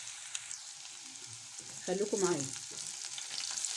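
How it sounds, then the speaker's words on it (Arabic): Onions fry in a pan for an Egyptian bissara topping, giving a steady close sizzle while someone speaks briefly over the cooking. "بحمر البصل اللي هحطه على وش البصاره"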